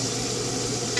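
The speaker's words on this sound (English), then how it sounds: "throw this grease all over the steak. And baste it." Butter and grease sizzle steadily in a pan while a steak is basted, a dense, close, continuous frying hiss with faint stirring movement and no talk.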